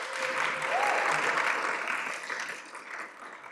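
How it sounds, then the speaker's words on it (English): An audience at a Kansas City business entrepreneurship event breaks into a round of applause, a dense steady wash of clapping that swells early and gradually thins out. "let's do a round of applause"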